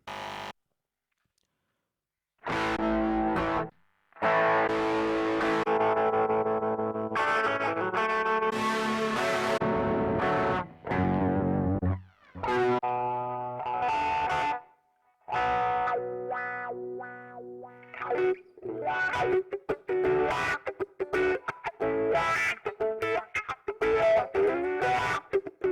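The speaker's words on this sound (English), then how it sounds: "this, which is basically your Marshall MS, Marshall high gain type sound" An electric guitar plays through a Marshall-style high-gain amp, its distorted tone loud and up close in chugging chords and sustained riffs, with short pauses and a run of choppy staccato notes near the end.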